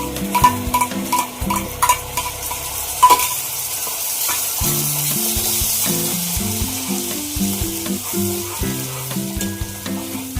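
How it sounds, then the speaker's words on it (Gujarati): Onions frying in a pan for a Gujarati whole-onion curry, a steady loud sizzle with occasional stirring clinks, building in intensity toward the end with no talking. "ડુંગળી સોફ્ટ થાય ત્યાં સુધી આપણે તળીશું"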